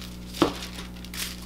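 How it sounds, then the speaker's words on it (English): A single crisp snip of scissors cutting through a piece of thin rose gold foil, sharp and close, with a faint second click after it in a quiet room. "So I'm gonna cut a piece of rose gold foil"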